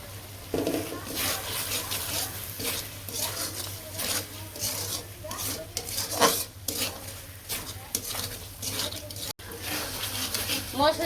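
Spices with salt, chili and turmeric being stirred and fried in a pan for a jackfruit and shrimp dish, scraping and rubbing strokes with a light sizzle and occasional clinks of the utensil, continuing over several seconds.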